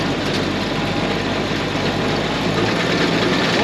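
Engine throttled up to wide open, a loud steady roar with dense rumble holding across the whole stretch, no talk over it.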